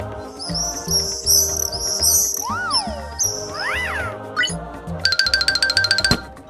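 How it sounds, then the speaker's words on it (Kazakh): Swallow chirping in a run of quick, bright twitters and rising-falling whistled calls, fairly close and clear, ending in a rapid string of evenly spaced high chirps, with no talking. "қарлығаш"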